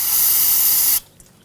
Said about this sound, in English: Use a little brake parts cleaner. Just clean off any residual.